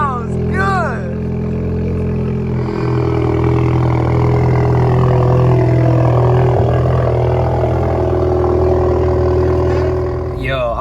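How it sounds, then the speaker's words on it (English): Alfa Romeo Giulia with the muffler and resonator deleted, its exhaust giving a loud, deep, steady drone up close as the engine holds and rises slightly in pitch, with people talking over it. "I'm super proud of how the exhaust came out. Like it sounds just like how I thought it would. Like it sounds like a M3 or AMG."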